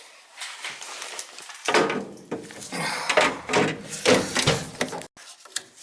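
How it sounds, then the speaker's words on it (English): Sheet-metal access doors set back onto a gas furnace during a replacement install, with several loud clanks, knocks and rattles in bursts and a final sharp bang, close by, with no talk. "Some doors here. Put the doors on,"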